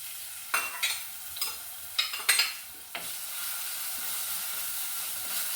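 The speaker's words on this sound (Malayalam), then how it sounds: "അതിലേക്ക് നമുക്ക് കുറച്ച് ഇഞ്ചിയും വെളുത്തുള്ളിയും കുറച്ച് കാന്താരിയും കൂടി അരച്ച് വെച്ചിരുന്നത് ചേർക്കാം." A paste of ginger, garlic and bird's eye chili is stirred into hot oil for fish curry. A few quick scraping strokes come first, then a loud, steady hiss and sizzle fills the rest, close up.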